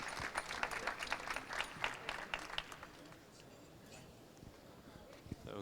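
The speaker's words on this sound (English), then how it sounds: "give a warm round of applause for David" Audience applause at a medical conference session, a burst of scattered clapping that fades after a few seconds, with a voice speaking under it.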